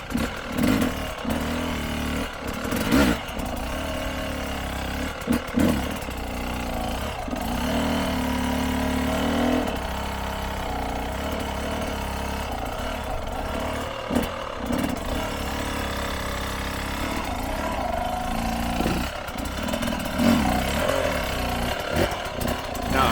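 Enduro motorcycle engine revving and blipping during a wheelie drill, a steady loud buzzing drone with repeated throttle surges and drops throughout.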